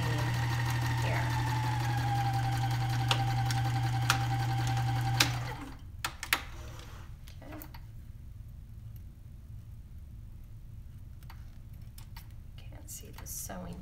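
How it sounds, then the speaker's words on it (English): A sewing machine runs steadily with a whirring motor hum while stitching a plain seam, then stops, leaving faint clicks and handling noise. "Basically, you're stitching a plain seam."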